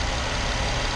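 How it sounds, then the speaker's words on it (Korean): A Nissan Altima 3.5 SL with the VQ35 V6 engine idles quietly while the steering pump gives off a steady, high-pitched whine, close and continuous with no talking. "지금 저 고주파음은 스티어링 펌프에서 나오는 좀 고질병적인 그런 소리인데"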